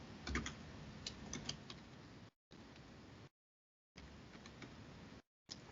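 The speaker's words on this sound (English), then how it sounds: "I'm just going to go ahead and type in a password." Password being typed on a computer keyboard, a quick run of close, crisp key clicks broken by brief silent gaps, with no voices.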